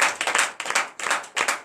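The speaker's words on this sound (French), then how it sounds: "Donnez de vives acclamations à notre Seigneur" Rhythmic group clapping during a morning prayer worship service comes in four distinct bursts, each a quick flurry of loud, close hand claps separated by short pauses.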